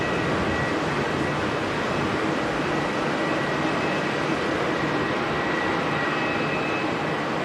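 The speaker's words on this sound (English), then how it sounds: "NZ77, so this is the Taipei bound aircraft" A passenger jet, Taipei-bound flight NZ77 at Auckland Airport, makes a steady, loud broadband roar of engine noise that holds evenly throughout with no talk.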